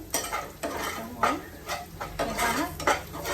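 Crushed peanuts being stirred in ghee in a pan for sabudana khichdi with raw potato, a spoon scraping and clinking against the pan in a quick uneven rhythm over faint sizzling, close by.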